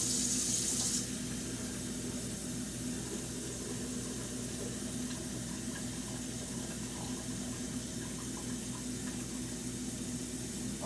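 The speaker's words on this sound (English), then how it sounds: "Crank on that water. Make sure it's cold." A kitchen faucet runs cold water into a sink, a steady rushing stream that holds evenly for about eleven seconds, close and unbroken, with no talk over it.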